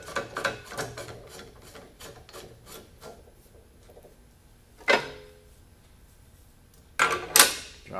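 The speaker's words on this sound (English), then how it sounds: "Thread the jacking screw into the end" A jacking screw threaded into a water-pump bearing installation tool, giving a series of quick metallic scraping turns, then a couple of sharper isolated clicks and rattles of parts being handled, close and fairly quiet.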